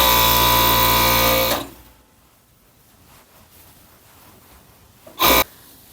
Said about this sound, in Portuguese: Então aqui na overlock eu vou começar fechando,